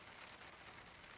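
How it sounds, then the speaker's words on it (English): Rain falling on a truck while camping at Lake Mary, a steady, dense patter of drops that is faint and continuous with no voices. "it's raining outside"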